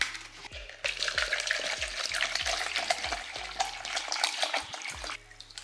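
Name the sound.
pouring distilled water onto a Philodendron plant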